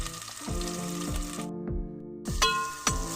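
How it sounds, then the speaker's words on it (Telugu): Thinly sliced onions and green chillies frying in hot oil, a loud close sizzle with regular scraping stirs, briefly dropping to quiet before the sizzle returns, no talking. "ఆయిల్ హీట్ అయ్యాక సన్నగా కట్ చేసుకున్న ఆనియన్,"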